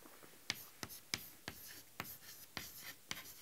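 Writing on a board while drawing a hodograph during a machining lecture: crisp, separate stroke and tap sounds, about eight in quick irregular succession, close and fairly quiet, with no talking.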